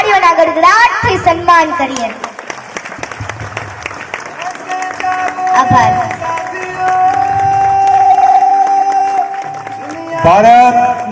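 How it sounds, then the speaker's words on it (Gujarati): An audience at a soldiers' honour ceremony in Rajkot stands and applauds, a sustained wash of clapping and crowd noise under amplified speech, with chanting and voices rising near the end. "ઊભા થઈ જાઓ અને આવા દેશ પ્રેમી વીર યોદ્ધાઓને આપણે તાળીઓના ગડગડાટથી સન્માન કરીએ."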